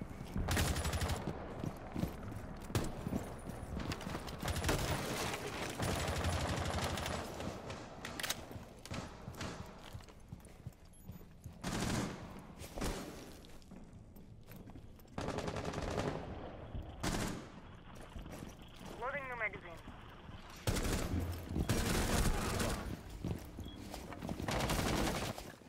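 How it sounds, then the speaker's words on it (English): Rapid automatic gunfire in an online shooter game, repeated bursts of shots close and loud, stopping and starting across the stretch, with occasional other game sounds between. "he's shooting his ass off"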